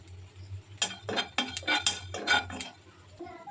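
Whole cumin seeds and spices are stirred in a dry pan, a spoon scraping and clinking against the metal in a quick cluster of close, bright strokes after a quiet start, with a low hum beneath.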